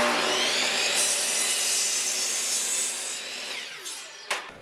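A miter saw cutting through a wooden board for an A-frame chicken coop, a loud close whining buzz that holds steady, then winds down with a final clunk as the blade stops.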